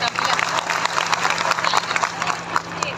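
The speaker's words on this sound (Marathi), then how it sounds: "त्याच्यासाठी सगळ्यांनी टाळ्या." At a cooperative power and agro-processing company function, a crowd claps in a busy, uneven burst, with voices mixed in and a faint low hum beneath.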